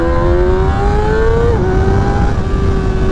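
A 2024 Honda CBR 600 RR sport motorcycle revs hard under acceleration, its engine pitch climbing steadily, dipping briefly at a gear shift, then pulling on again, loud and close with no talk.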